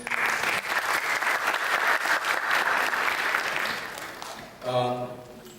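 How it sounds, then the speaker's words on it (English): A room full of people at a community Christmas and New Year gathering gives a warm, sustained round of applause that fades out, followed by a speaker's voice close by. "all of you deserve a huge round of applause"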